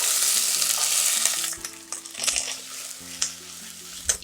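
Onion fries in a pot with garlic, giving a bright, continuous sizzle up close, with a few stirring knocks and scrapes and a quiet music bed underneath.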